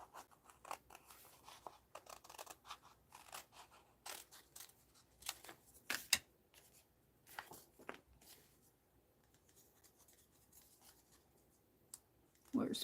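Quiet, close snipping of scissors cutting through stickers, short crisp cuts in irregular bursts with soft paper rustling between them, faint and with no talk.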